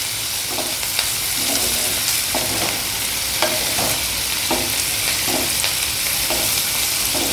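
Onions fry in a pan until pinkish-red for a soya masala, giving a steady close sizzle broken by repeated scraping stirs of a spatula through the whole stretch.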